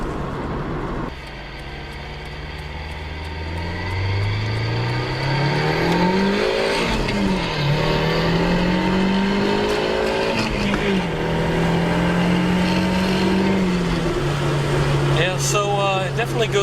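A Nissan 180SX engine revs hard while driving and accelerating, its pitch climbing through the RPM range, with gear changes around six and fourteen seconds. The sound is loud and close, continuous and droning.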